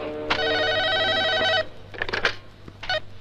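A telephone rings loudly with a long electronic ring that then cuts off, followed by a few softer clicks and shuffles as the line to the police station is picked up.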